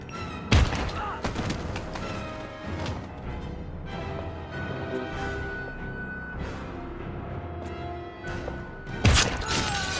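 Gunfire in Heavy Rain during a fight with guards: sharp shots at the start and end frame a dense, rumbling stretch of ongoing firing and impacts, loud and close.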